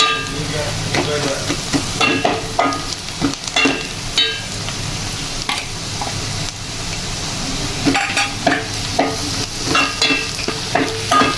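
A spatula stirs a masala mix roasting in a pan, repeated scraping and clacking strokes over a continuous loud sizzle, close and rhythmic with short pauses.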